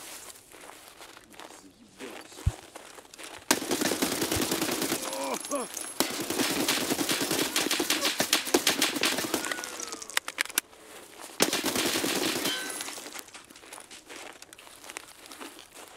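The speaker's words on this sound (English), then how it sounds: "I'm in a fight, and a scav is just shooting at me for like 60 miles." Gunfire from an enemy scav in Escape From Tarkov, sustained bursts of rapid shots over several seconds, a pause, then another run of fire before it fades, with a brief exclamation from a player.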